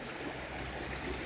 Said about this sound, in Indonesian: Ini sungainya deras sekali teman-teman.